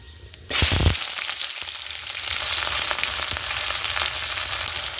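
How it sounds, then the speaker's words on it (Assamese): Panch phoron spices hitting hot oil for an Assamese soya bean dish: a sudden loud burst of sizzling that settles into a steady, crackling fry close by, with no talking. "তেলত পাঁচফোৰণ দিছোঁ"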